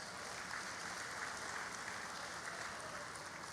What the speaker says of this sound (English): the Honorable Commissioner deserves a bigger round of applause